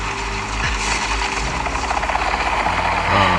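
A helicopter passes in a video game played on a Retroid Pocket 6 handheld, a loud steady rotor chop with mechanical rattling and engine drone, close and unbroken throughout.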